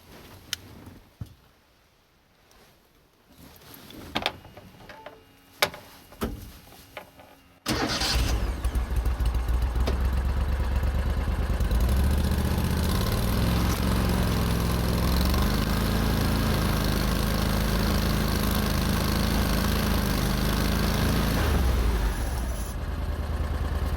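An Argo 6x6 amphibious vehicle's engine starts up and then runs loud and steady under heavy load as it climbs a very steep incline outdoors, droning continuously close to the microphone.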